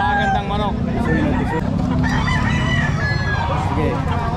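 Rooster crowing repeatedly at a poultry market where fowl are being sold, its calls rising over a steady murmur of clucking birds and distant chatter.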